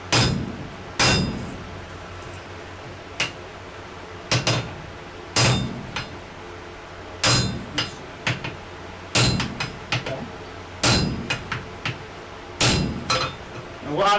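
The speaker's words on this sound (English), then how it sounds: "Go ahead, hammer right straight down." A hammer strikes hot wrought iron while forging a sledge hammer, sharp ringing metallic blows at an uneven pace, some in quick doubles, loud and close over a steady background hum.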